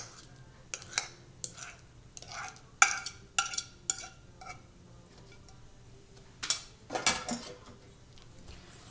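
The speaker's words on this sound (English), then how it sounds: "I'm just going to stir it up a little bit so the flour doesn't splatter all over everything" Stirring flour and mashed bananas into a creamed banana bread mixture, with scattered utensil clinks and scrapes against a bowl in irregular bursts, close and fairly quiet.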